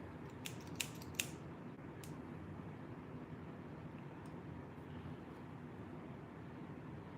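A few quick, sharp scissor snips trim stray EP fibers on a saltwater baitfish fly at the tying bench, close and clear, followed by quiet room hum.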